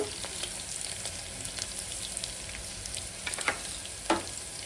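Onions frying in a pan until browned, a gentle steady sizzle with scattered crackles and a few stirring scrapes near the end.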